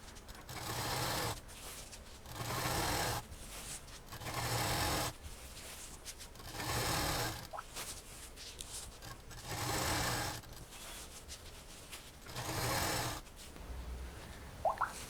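Sewing machine stitching the seams of a single bed cover made from a saree with lining fabric, running in six or seven steady bursts of about a second each, separated by short pauses, close and alone.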